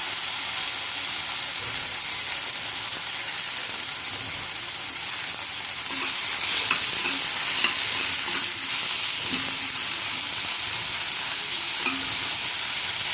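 Jujube (kul) chutney stirred in a pan over medium heat, a steady sizzle with soft scraping and stirring strokes throughout, fairly close and continuous, no voices.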